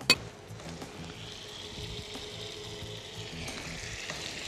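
Food fries in a pan with a steady, soft sizzle that holds throughout, opened by a single sharp clink near the start, with no talking.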